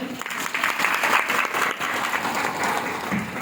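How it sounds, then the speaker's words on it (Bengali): A crowd at a marketing company gathering bursts into loud, sustained applause: dense, continuous hand clapping that fills the whole stretch without a break. "থ্যাংক ইউ স্যারের জন্য ফাটিয়ে ফাটিয়ে হাত তালি"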